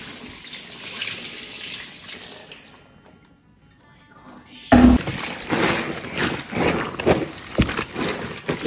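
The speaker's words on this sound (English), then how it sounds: "Let's pour more hot water on top." Hot water gushes from a household tap during cleaning, a rushing splashy stream that stops briefly and then resumes more loudly, with clatters and bumps around it.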